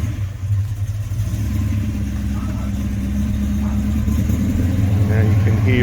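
A 1970 XY GT Falcon replica with a 351 V8 runs steadily close by, its deep, even engine rumble continuous throughout.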